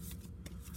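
A single tarot card slides from the deck with a quick, soft papery shuffle and a couple of faint flicks, very quiet and brief, with no talking.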